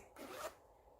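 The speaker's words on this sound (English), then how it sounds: "I'm gonna unzip this." A skirt's zipper is drawn open in one quick, close rasping pull that lasts about a third of a second, then stops and leaves a quiet room.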